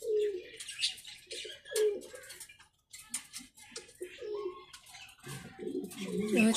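Poster pigeons on a pigeon farm coo in repeated low throaty phrases, with chirps and a brief flutter of wings mixed in, fairly close and with no talk.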